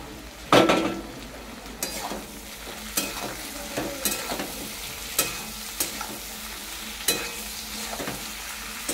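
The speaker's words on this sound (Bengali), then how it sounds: "ভালো করে কষে নেবো এইভাবে।" Fried okra, potato and fish are stir-fried in a pan with a soft continuous sizzle, while a spatula scrapes and knocks against the metal in repeated sharp strokes, close and steady over several seconds.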